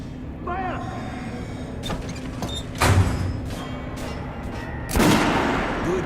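Kalashnikov rifle shots in the shooter game Metro: Last Light, a few sharp loud reports spaced a couple of seconds apart over a steady background hum, with brief voiced bits early on.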